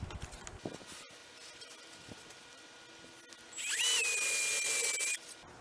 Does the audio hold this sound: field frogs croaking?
no